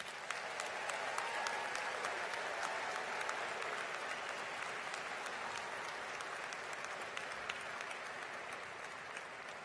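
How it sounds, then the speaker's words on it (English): An audience at a university graduation ceremony claps continuously in a dense, steady wash of applause, moderately distant and sustained without pause. "giving a big round of applause to congratulate today's graduates"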